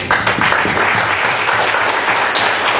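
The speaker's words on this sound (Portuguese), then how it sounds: "Aplausos, Senhor Jesus." A church congregation applauds during an evening deliverance service, dense loud clapping throughout with no gaps.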